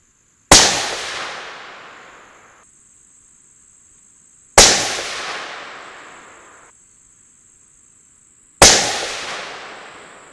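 Three loud rifle shots at steady intervals of about four seconds, each a sharp crack with a long decaying tail, fired while zeroing a Vortex Diamondback Tactical 6-24x50 scope; no talk between them.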